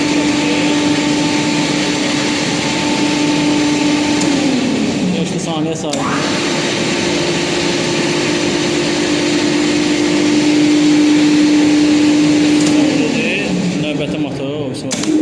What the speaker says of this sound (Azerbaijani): Birinci motoru qoşuq.